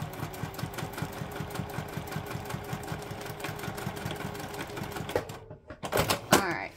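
Sewing machine backstitching the seam of a bag, a fast, even mechanical rattle close by that stops near the end and is followed by a few handling noises.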